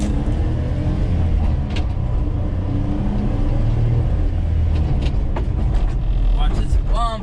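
A small Honda kei truck drives along, its engine hum and road rumble steady and close from inside the cab, with brief voices heard over the noise.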